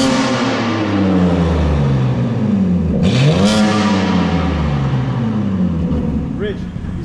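A 2024 BMW M4 with its exhaust valves open revs hard from inside the cabin, the engine note climbing and falling in loud sweeping pitch, with someone talking over it.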